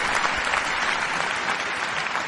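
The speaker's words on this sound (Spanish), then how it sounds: "Con un fuerte aplauso recibimos a la delegación de Perú." Sustained audience applause greets the Peru delegation at a Latin American folklore festival, a dense, steady wash of clapping from a large crowd that holds at full loudness throughout.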